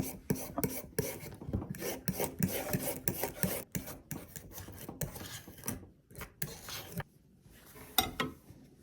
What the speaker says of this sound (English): Remove the skin from the carrot and use a peeler to thinly slice them.